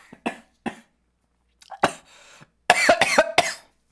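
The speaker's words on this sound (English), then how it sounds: "you guys can hear me just cough like I'm about to fucking die on the spot" A streamer coughs hard in a string of harsh, raspy bursts, a few spaced hacks building to a rapid cluster of loud, throaty coughs close to the microphone.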